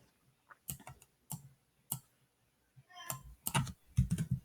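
Computer mouse clicks, sharp and close, come singly and in quick clusters at irregular intervals against a quiet background, with no talking.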